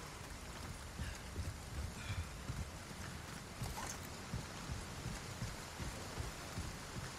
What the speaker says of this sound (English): This rain.